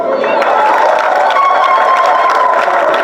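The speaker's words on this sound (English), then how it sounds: "why am I telling you to clap for them?" Parliament audience applauding and cheering for members of parliament, a dense, steady wash of clapping and crowd noise filling the hall at close range throughout.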